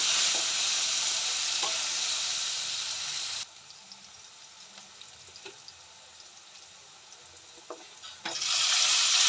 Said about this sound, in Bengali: আলুটা একটু ভাজবো, আলুটা একটু ভেজে তারপর চিনি বেগুন দেবো